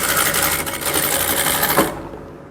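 A sewing machine stitching the hem of a blouse runs in a fast, even rattle for nearly two seconds, then stops abruptly into quiet.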